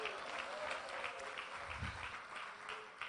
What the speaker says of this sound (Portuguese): Você pode aplaudir, glorificar ao Senhor.